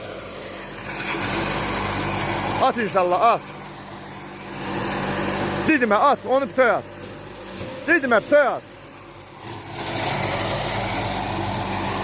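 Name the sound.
electric feed chopper with 26 blades cutting grass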